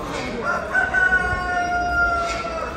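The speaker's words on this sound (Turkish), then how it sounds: "Horoz iri. İri horoz." At a Bursa poultry market selling chickens, ducks, geese, turkeys and partridges, a large rooster crows in a drawn-out call amid other fowl and general market bustle, fairly close and clear over the background noise.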